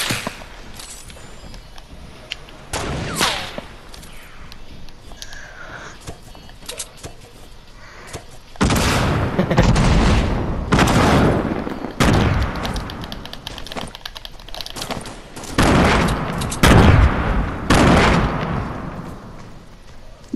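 Sniper rifle shots and other gunfire boom in a Fortnite shootout, several loud cracks arriving in separate bursts over a steady background of game noise, with no talking.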